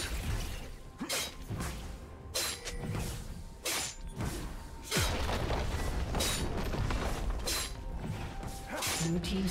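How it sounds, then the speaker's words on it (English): Destruction of a turret in League of Legends: several sharp, crashing shatter and boom bursts with whooshes, layered over dense battle effects and music, loud and busy throughout. "Blue team's turret has been destroyed."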